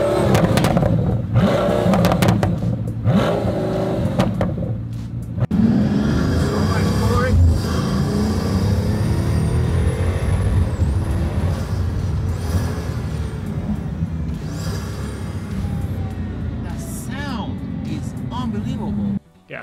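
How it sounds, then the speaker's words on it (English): A Pagani Huayra supercar revs its engine, with sharp bursts at first, then a sustained loud roar and rising whine that carries on under background crowd noise before cutting off abruptly at the end. "let's hear some revving."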